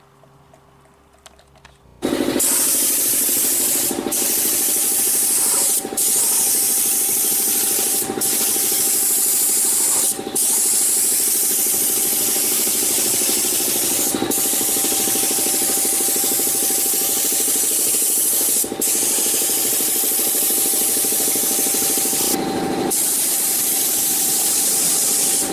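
A long, steady hiss of a spray gun painting a Volkswagen LT van cab runs loudly and continuously, broken by a few brief pauses and clicks.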